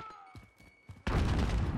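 A grenade exploding in a video game, a sudden loud burst that cuts in after faint clicks and holds as a thick rumbling roar.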